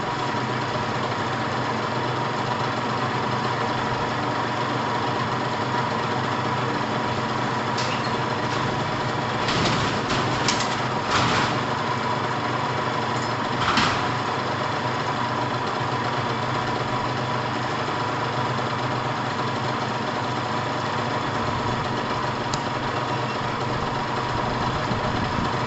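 A Pulse Force 50cc two-stroke engine idles steadily while warming up, a constant close buzzing drone with a few brief clicks and knocks around the middle.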